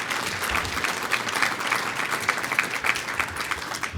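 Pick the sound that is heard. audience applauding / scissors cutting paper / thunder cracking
audience applauding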